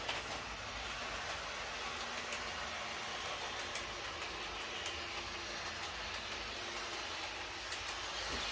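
A Class 156 model train with a DC motor, suffering traction trouble from dirty wheels, runs round a layout loop with a steady, continuous rumbling whir and faint rhythmic clicks of wheels over track joints, alone and unbroken throughout.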